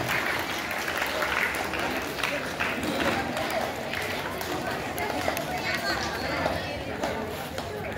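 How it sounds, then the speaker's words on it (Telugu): Students clap together to welcome a teacher at a school farewell event at a high school in Tapeswaram, a steady dense crowd applause that runs throughout, mixed with chatter and voices. "అందరూ చప్పట్లు కొడుతూనే మీ పని అదే, చప్పట్లు కొట్టి ఆహ్వానించండి"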